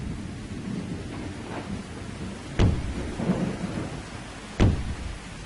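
Thunderstorm with rain falling steadily, broken by two sharp, loud thunder cracks from nearby lightning strikes, each followed by a rumbling tail over the continuous downpour.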